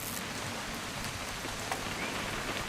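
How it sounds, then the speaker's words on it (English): Steady rain in the game What Remains of Edith Finch falls in a continuous, even hiss, with occasional soft drops pattering on a surface; no voices. "It's gonna rain the whole weekend,"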